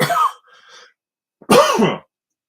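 Two rough throat-clearing coughs, one short and one longer and harsher, separated by a brief pause of silence.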